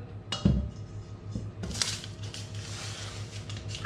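A large mixing bowl pulled out and handled for a mini chocolate cake, with a clear clunk and clatter of kitchenware at first, then softer knocks and rustling handling noises close by, without talk.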